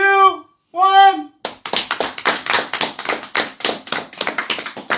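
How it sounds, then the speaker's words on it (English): Studio audience clapping on a countdown cue, a dense burst of many hands that starts abruptly after two short sung tones and keeps going steadily, close and loud. "We're going to clap them in 3,"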